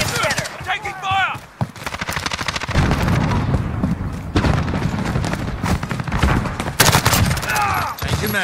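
Call of Duty: Modern Warfare (2019) Domination match on PS4 with loud, sustained bursts of automatic gunfire and heavy booms, mixed with game voice callouts throughout.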